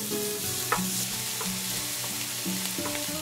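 Steady sizzle of minced shallot, garlic and lemongrass stir-frying in oil in a pan, close and continuous, with faint scraping under quiet background music and no talking.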